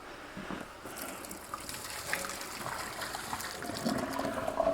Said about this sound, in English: take this jar over to the sink, dump it out